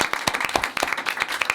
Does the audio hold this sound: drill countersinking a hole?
no